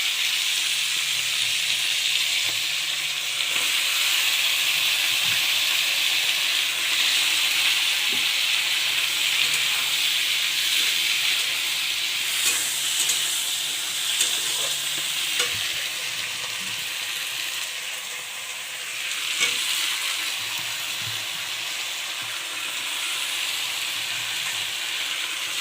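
Shrimp frying in a pan together with pumpkin and Malabar spinach, a steady close sizzle with soft stirring and scraping throughout, no voices.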